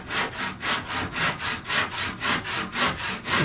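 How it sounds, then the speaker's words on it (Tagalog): A hand saw cuts through wood in brisk, even back-and-forth strokes, about a dozen rasping pulses in quick rhythm, close and clear with no talk over it. "eto na, naglalagari na."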